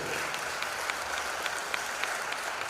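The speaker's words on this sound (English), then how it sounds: "Could you give him a tremendous round of applause?" Audience applauding a Member of Parliament for San Fernando West at a live event, a steady wash of clapping from a crowd with sharper individual claps poking through, fairly distant and even throughout.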